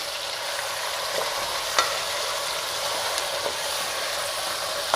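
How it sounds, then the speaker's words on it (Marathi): Chicken sizzles steadily in a hot pan, with occasional scraping clicks of a utensil stirring it; no voices. "आता आपण चिकन चांगलं परतून घेऊया"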